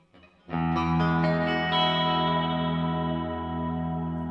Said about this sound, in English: You can bring modulation into the reverb, and if we just bring the reverb up there